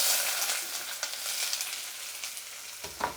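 Onion sizzles steadily in hot oil with mustard seeds, a tempering for sambar, with a bright, crackling hiss throughout and a brief stir-like shift near the end. No one speaks.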